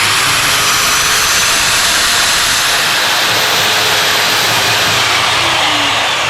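A JCB 254mm sliding mitre saw motor spins at full speed, a loud continuous high whine and rushing hum held steady throughout, close by and with no voices.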